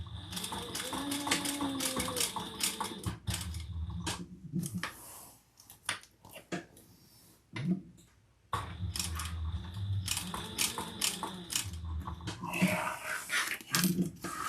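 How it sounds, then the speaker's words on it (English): A domestic sewing machine stitches a reinforcing box onto a crossbody bag, running in bursts forward and backward with pauses between, close up, while someone talks over it at times. "now we're going to just sew a box on here"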